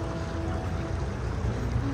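A cold mountain stream flows beside Masjid Imam bridge in Sulaymaniyah, Kurdistan, giving a steady, moderate rushing and gurgling wash of water that runs without pause.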